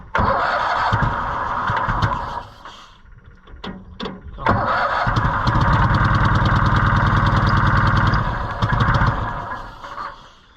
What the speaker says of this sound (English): Let's give it more hand throttle. That might be the secret. Come on!